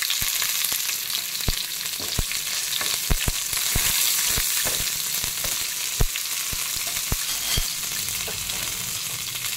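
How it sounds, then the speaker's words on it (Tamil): Garlic cloves and green chilies fry in oil in a pan for a ridge gourd chutney, a steady bright sizzle with scattered sharp clicks of stirring against the pan, no voices. "இப்போ வந்து ஒரு 3 பல் பூண்டு போடுறேன்."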